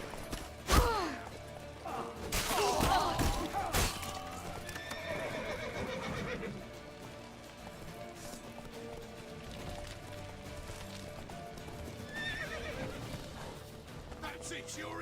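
Horse whinnying and clip-clopping hooves in The Witcher 3, a loud neigh near the start followed by galloping hoofbeats amid game ambience, with voices calling out over the action.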